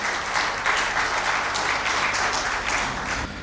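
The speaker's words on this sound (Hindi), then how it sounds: "ज़ोरदार तालियों के साथ स्वागत करिए।" A hall audience at a Hindi-language book event on law and society gives dense, steady applause of welcome. The sound is a loud, even wash of many hands clapping together, heard alone without speech.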